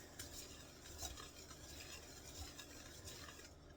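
Dry granular stirring close up, a spoon scraping and swishing steadily through sugar and Clear Gel powder in a bowl, with faint clinks, no voices.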